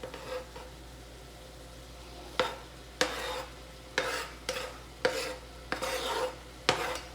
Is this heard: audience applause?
no